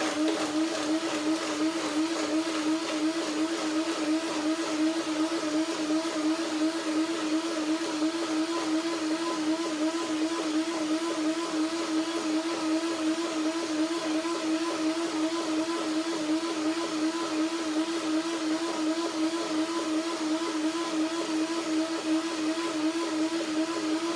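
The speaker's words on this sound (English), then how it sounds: "Blender dance." A kitchen blender runs steadily for the whole stretch, puréeing carrot soup with a constant whirring motor drone and no pauses or speech.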